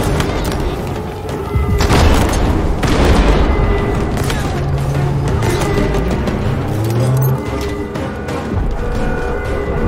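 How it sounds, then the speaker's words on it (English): Heavy booming explosions go off in the video game Halo Infinite, loud and rumbling with overlapping blasts and gunfire continuing throughout. "Oh my god, everything is exploding"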